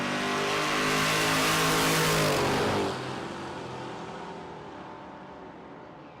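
Drag race cars, a Chevrolet Monte Carlo and a Corvette, launching at Texas Motorplex: a loud roaring surge of engines peaks for about three seconds, then drops away into a fading, receding drone as the cars pull off down the strip.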